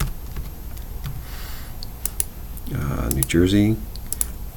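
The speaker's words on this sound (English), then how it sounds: "Let's see if I can type fast enough." Quick bursts of keystrokes on a computer keyboard, typed fast in short flurries during a software demo, close and fairly clear, with a voice briefly speaking over them.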